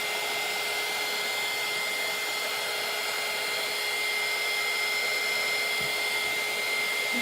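A hair dryer runs continuously, drying a wet t-shirt, with a steady close whooshing blower hum and a fixed motor whine, unbroken for the full seven seconds, no talking.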